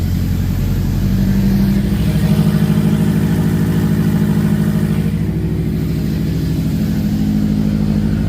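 A 2011 Subaru WRX with a rebuilt turbo runs steadily with its downpipe disconnected, a loud, close, droning engine note with a slight rise in pitch early on, then holding a constant idle-like rumble throughout.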